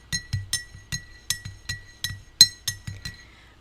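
A spoon stirs a drink in a small hot cup, striking the sides in a run of about a dozen bright, ringing clinks at a steady, quick pace, close and clear with silence between them.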